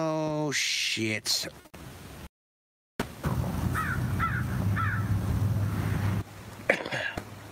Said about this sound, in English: I hear a crow in the background.